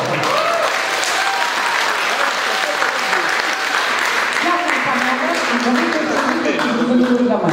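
Audience applause at a meeting with a deputy minister, sustained dense clapping from a crowd throughout, fairly loud and close, with no talk over it.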